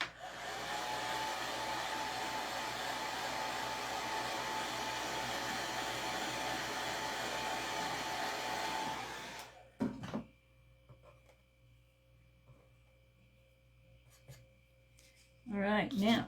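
A hair dryer runs steadily and loud for about nine seconds, blowing over paint on a handmade wooden sign, then cuts off, leaving faint handling noises and a brief burst of airflow at the end.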